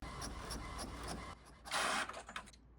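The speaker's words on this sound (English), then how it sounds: "I'm going to start with Inkjet and print here." An HP ENVY 6055e inkjet printer at work, its print head making repeated rhythmic whirring passes close by, then a louder burst as the paper feeds and moves through, with no talking.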